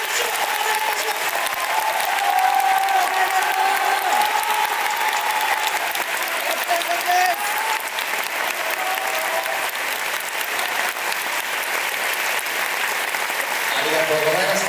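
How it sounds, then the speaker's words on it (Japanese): Sustained applause from an audience at the 2024 Japan men's bodybuilding championship awards, a dense, even wash of clapping lasting throughout with crowd noise underneath and a voice speaking over it. "お二人の選手にもう一度拍手をお願いします"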